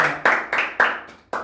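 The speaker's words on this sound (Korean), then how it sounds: "박수 한번 쳐달래요" A few sharp handclaps from a small group at a B1A4 livestream, coming in about four separate short bursts, close and moderately loud, with no talking.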